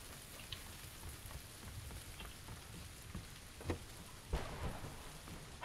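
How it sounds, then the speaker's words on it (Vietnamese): Steady rain falls during a thunderstorm in the PUBG battle royale game, with a constant hiss broken by several sharp thunder cracks, the loudest coming near the end, and no voices. "Sấm chớp nữa."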